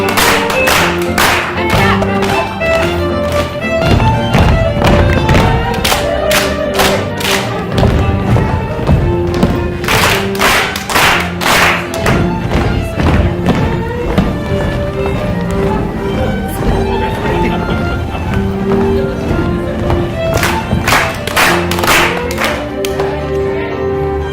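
A group keeps up a steady, rhythmic pattern of claps and pats for a dance routine, loud and continuous, with music playing underneath.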